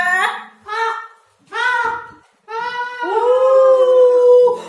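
A voice imitates a crow's cawing in several drawn-out, nasal calls with short pauses between them, the last one held long.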